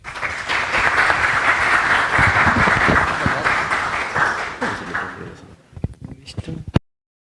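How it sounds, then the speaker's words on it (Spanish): A lecture audience gives strong, sustained applause for an architect speaker, dense and loud for about five seconds, then thinning to a few scattered claps before ending abruptly. "Recibamos con fuerte aplauso al arquitecto Jefferson Torres"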